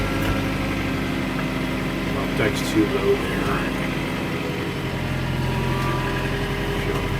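A John Deere 4044R diesel tractor idles in a barn shop after warming up, giving a steady low rumbling hum that runs the whole time while someone talks nearby.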